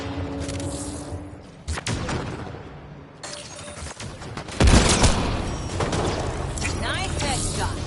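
Gunfire in the video game Mass Effect Andromeda, a scatter of sharp shots and thuds with mechanical clatter, swelling into a loud dense burst midway that carries on to the end, mixed with game noise.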